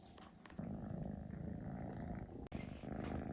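A pet cat purrs close up in a house in the woods, a steady low rumbling purr that continues throughout with one brief break near the end.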